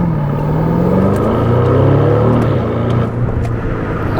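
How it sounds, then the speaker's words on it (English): A 2024 Aston Martin DB12 with 671 hp pulls hard, its engine note rising steadily through a loud, continuous acceleration heard from inside with a deep rumble beneath, no talking. "Let's start this thing off with a nice little pull here."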